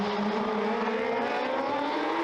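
Stock cars roar away at the green flag of a six-lap heat at Merrittville Speedway in Ontario. Several engines rev hard together as the field accelerates, a dense, steady, rising drone heard from a distance with no speech.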